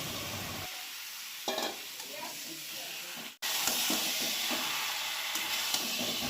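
Marinated country chicken stirred and frying in hot oil with onion and garlic paste, a steady close sizzle with scraping stir strokes, briefly cut by a short dropout midway before the sizzle resumes.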